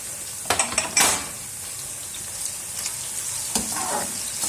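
Soft, steady sizzling of ginger slices and crushed garlic frying in a pan for a lentil tarka, with a few sharp clinks and scrapes of a utensil stirring near the start.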